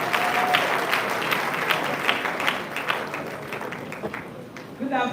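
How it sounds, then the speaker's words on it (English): A crowd at a university town hall meeting with council members breaks into a round of applause for the first female student union president, a dense steady patter of clapping that slowly thins and fades out. "please give her a round of applause"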